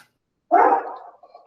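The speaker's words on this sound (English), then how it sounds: "I have a dog barking behind me" A dog barks once, loud and close, during a school board meeting call. The bark tails off into a whine-like fade, with quiet before it and no talking.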